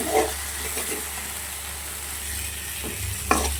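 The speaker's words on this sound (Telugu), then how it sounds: "గరం మసాలా, కారం, ధనియాల పొడి. ఇప్పుడు ఇవి కూడా కొంచెం వేగాలి." Garam masala, chili powder and coriander powder fry in a pan with a steady, close sizzle and hiss, punctuated by a couple of soft stirring scrapes.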